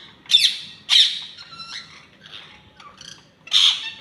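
Several sharp, harsh bird squawks ring out at close range on a rooftop, separated by short pauses and softer chatter, over a faint low background hum.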